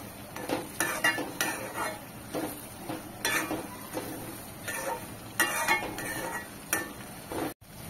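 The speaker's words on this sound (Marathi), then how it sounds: "त्याचबरोबर इथे 1 वाटी वाटाणे घेतलेले आहेत आणि हे फ्रेश वाटाणे आहेत, तर ते घालते आणि मिक्स करून घेऊया." Fresh green peas added to a pan of cauliflower for a dhaba-style bhaji, followed by repeated stirring with a spoon scraping and clinking against the metal pan in steady strokes.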